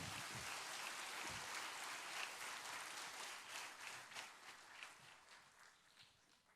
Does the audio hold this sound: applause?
yes